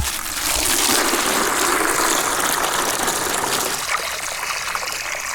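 Water gushing from a 50-foot metal garden hose into a container, a steady close rushing and splashing flow with no pauses.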